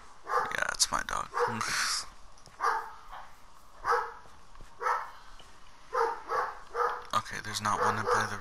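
A dog barks again and again at close range, the barks spaced irregularly and mixed with a few yips.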